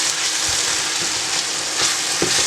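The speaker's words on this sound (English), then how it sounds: "Then just mix it around, mixy." Pita filling fries in a pan with sauces. A steady loud sizzle carries faint scraping stirs from a utensil, all close and with no voices.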